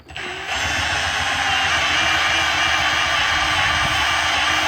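Power drill fitted with a 3M Stripe Off Wheel grinding old cracked vinyl wrap off a car, a steady loud high-pitched whine that starts abruptly and holds continuously alone.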